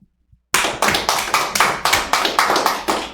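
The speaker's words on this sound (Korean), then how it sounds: "우리 박수" Easter service congregation clapping in unison, about ten loud, evenly spaced rhythmic claps in quick succession, starting abruptly after a brief silence, close and crisp.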